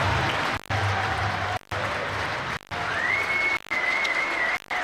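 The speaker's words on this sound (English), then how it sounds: "And let's just listen to the applause." A cricket crowd at a Hampshire Hawks versus Sussex Sharks Vitality Blast match applauds a James Vince century, a broad, steady wash of distant clapping broken by brief dropouts, with a thin whistle-like tone partway through.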